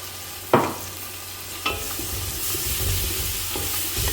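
Ginger and garlic going into hot oil for an Andhra-style fish curry, with two sharp clatters as they hit the pan, followed by a rising, continuous sizzle and light stirring, close up and without speech.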